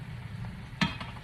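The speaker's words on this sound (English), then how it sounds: "Let's put a big heaping knob of butter in here" A big knob of butter sizzling in a hot pan, a soft steady crackle with one brief louder clatter, close and alone.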